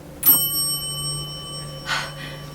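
A small bell rings once during a seance, a bright struck tone that lingers and slowly fades, followed by a softer rustle or knock a moment later in an otherwise quiet room.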